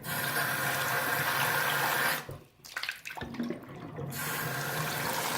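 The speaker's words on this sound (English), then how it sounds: "We're going to wash the barrel." Water runs steadily from a tap while a rock tumbler barrel is rinsed, cuts off briefly with some clattering and splashing, then the stream resumes.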